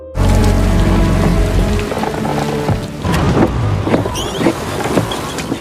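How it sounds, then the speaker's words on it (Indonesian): Rain begins falling gently, a steady broadband wash with scattered louder patters and drips, fairly close and continuous, alone without any voices over it. "hujan pun mulai turun perlahan membasahi bumi"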